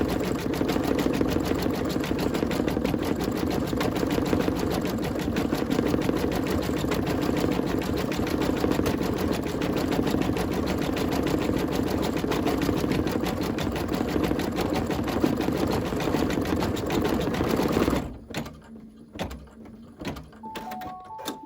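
An embroidery sewing machine stitches out a turkey mug rug with rapid, even mechanical chatter for about eighteen seconds. It then stops, leaving quiet handling noises and a few short electronic beeps.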